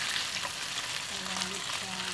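Pan-fried teriyaki chicken with black pepper sizzles loudly as the remaining sauce is poured in, a close, continuous frying hiss with soft stirring scrapes.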